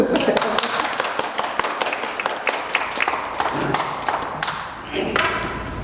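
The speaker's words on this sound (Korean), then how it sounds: "그래서 박수 한번 쳐주십시오." Audience applause at a senior-wellness forum in Korea: steady rapid clapping from a seated crowd, fairly close and continuous for several seconds, with a few sharper claps standing out.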